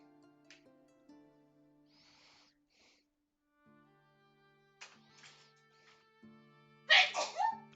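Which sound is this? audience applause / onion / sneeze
sneeze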